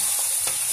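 Lamb fat chicharon frying and sizzling in hot oil while being stirred, a steady loud hiss throughout with soft scraping strokes, no voices.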